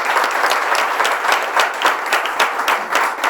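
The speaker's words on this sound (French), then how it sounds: "On peut les applaudir" An audience at a church tribute service for a pastor breaks into loud, sustained applause, dense clapping from many hands with pulsing surges and no voices on top.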